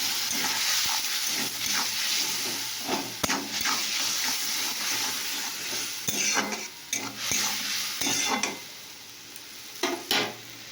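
Water splashed into a pan of frying food for egg curry, with sizzling, steam hiss and metal utensil clinks against the pan, fairly close and continuous.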